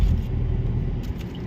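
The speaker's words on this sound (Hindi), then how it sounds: "देखो भाई, आर्मी की गाड़ी जा रही है" An army vehicle drives past on a road with a deep, close engine rumble that holds steady throughout.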